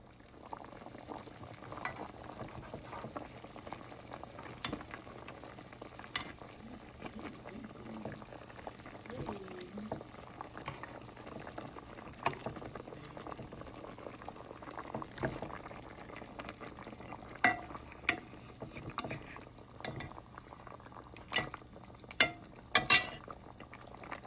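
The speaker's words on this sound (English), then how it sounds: "this curry is cooking nicely" Snook fish curry with okra, tomato and tamarind simmers in a pot, a steady low bubbling with occasional clinks of a utensil, brief sharper knocks near the end.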